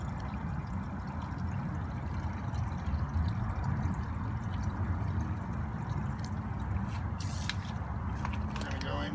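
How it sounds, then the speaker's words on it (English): Water runs steadily into a mesh bag of Flourite aquarium substrate, a continuous close rushing spray with a few brief splashy bursts near the end. "you're just going to fill up the bag with water"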